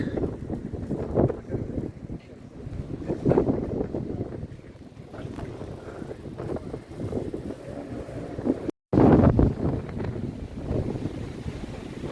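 Gusty wind buffets the microphone in low rumbling bursts on a ferry deck on a windy summer day in the Netherlands, over the drone of the boat engine, rising and falling throughout.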